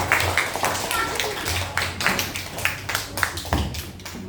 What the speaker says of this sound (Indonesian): Ya, tepuk tangan dulu buat Siti.